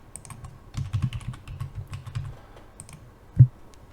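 A password is typed on a computer keyboard to activate a Hikvision IP camera: a quick run of light, close keystroke clicks, then a pause and one heavier key press.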